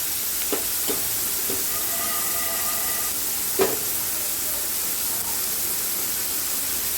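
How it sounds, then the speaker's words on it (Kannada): Chopped onion and tomato frying in a pan for a beans palya, a steady broadband sizzle with a few clinks and stirring scrapes, close and even throughout, no talk. "ಈರುಳ್ಳಿ ಟೊಮೊಟೊ ಚೆನ್ನಾಗಿ ಫ್ರೈ ಆಗಬೇಕು"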